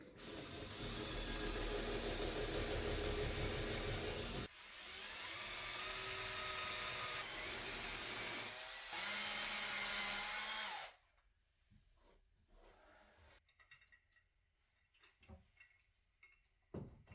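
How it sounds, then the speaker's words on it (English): A small drill fitted with a 2mm bit whirs in three sustained bursts of several seconds each while pre-drilling mounting holes in the top of a window frame, followed by quieter handling clicks and taps. "mark the position of the mounting holes on the top of the window frame and pre-drill these"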